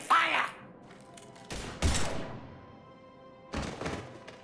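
Gunfire in the video game Mass Effect 3: a few heavy, thudding shots in short bursts, separated by quiet gaps, with a brief muffled voice at the start.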